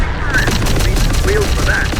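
Dense, steady gunfire rattles through a firefight in the video game Terminator: Dark Fate - Defiance, loud and continuous for the whole stretch with no break.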